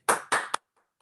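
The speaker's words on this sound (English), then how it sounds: "let's give Mike a round of applause, please." Applause at the end of an astronomy talk: two sharp claps and a quicker third, loud and close, then near silence with faint traces.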